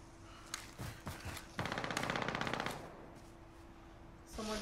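Automatic gunfire from the battle royale video game Warzone, a fast rattling burst of shots in the middle of the clip with a few scattered single shots before it, heard at moderate level through game audio.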